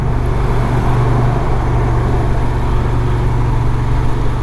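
Honda NT1100 motorcycle engine running with its DCT set to Sport 2 mode, a loud steady low hum and drone throughout, with no voices over it.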